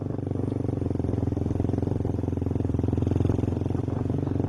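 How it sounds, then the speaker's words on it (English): A motorbike carries riders through forest, its engine throbbing steadily up close with a fast regular pulse and some rattling, loud and continuous throughout. "So the escape by motorbike began."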